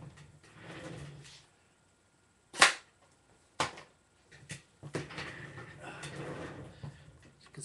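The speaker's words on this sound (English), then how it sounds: "So I'm going to shoot that pack of cigarettes." A homemade blow gun fires a dart at a cigarette pack, giving two sharp, loud pops a second apart, with talk and rustling before and after.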